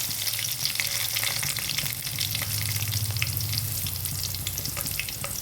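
Dried chillies sizzle and crackle steadily in hot oil, a dense, continuous frying hiss with small pops throughout.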